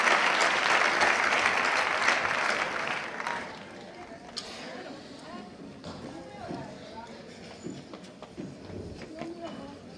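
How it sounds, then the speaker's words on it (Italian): An Italian audience applauds a young performer at a song show. The clapping starts loud and dense, then fades after a few seconds into scattered claps and crowd murmur. "Un applauso per favore."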